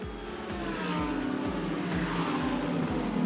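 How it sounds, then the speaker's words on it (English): Pack of GT3 race cars at the Spa 24 Hours streaming past, a dense layered engine roar with repeated rising and falling passes and gear shifts, steady and loud throughout. "A stunning sight and sound of so many GT3 cars packed together"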